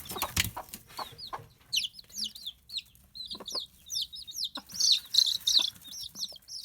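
Broody hens cluck and chirp while adopted chicks peep in high, rapid calls, a lively close-up mix of short bursts and overlapping cheeps with a few soft clucks beneath.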